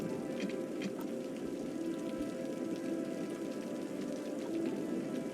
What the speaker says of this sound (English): It's raining, I'm happy for that.